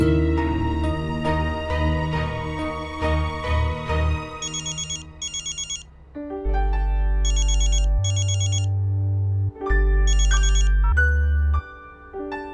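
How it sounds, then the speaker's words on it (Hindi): A phone ringtone plays a looping electronic melody with repeating chimes, loud and close, with no talking over it. "हाँ अक्षरा, मैं करने ही वाली थी तुझे फोन।"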